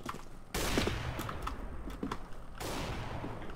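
Gunfire in CS:GO, with a loud sustained volley of rapid shots starting after a brief pause, then scattered cracks and a second burst near the end, close and with no talk.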